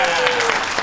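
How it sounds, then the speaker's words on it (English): A studio audience breaks into a dense, continuous wash of applause that stays loud and even throughout, with no single claps standing out. "All right, everybody clap now."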